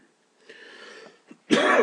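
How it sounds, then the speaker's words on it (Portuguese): A person coughs and clears their throat, a short rasping burst followed by a louder, harsher cough at the end, close and alone. "Deixa eu tomar alguma coisa, que essa tosse tá infernal."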